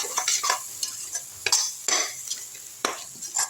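Karonda pickle being stir-fried in hot oil in a pan on low flame, a steady sizzle broken by several scraping stirs of a spoon against the metal, close and fairly loud, with no voices.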